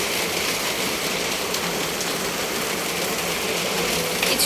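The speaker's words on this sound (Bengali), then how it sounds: "ওই যে বৃষ্টি হচ্ছে" Steady heavy rain falls on a rainy afternoon, a dense continuous hiss of drops on surfaces close by, unbroken for the whole stretch with no voices.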